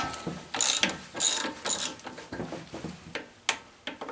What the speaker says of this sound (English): So I'm going to have to pull off this air cleaner cover here